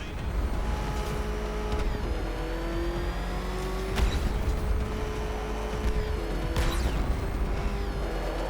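A car engine revs steadily in Batman Arkham Knight, a loud continuous growl with rising and falling pitch sweeps as gears shift, rushing wind and road noise over it, alone without voices.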